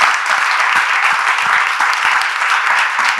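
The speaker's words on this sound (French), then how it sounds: "pendant que vous continuez toujours d'applaudir" Thick, continuous applause from an audience greeting a guest, many hands clapping close and loud without a break for a few seconds.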